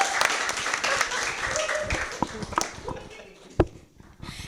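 An audience at the Emoticon Fest applauds a band, with a burst of scattered claps that thins out over a few seconds amid crowd murmur.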